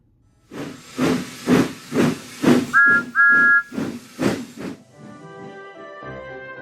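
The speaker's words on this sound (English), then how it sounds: "Who's that puffing along the track?" A steam engine puffs in a steady rhythm of loud chuffs, with two short whistle toots in the middle before the puffing fades into a hum.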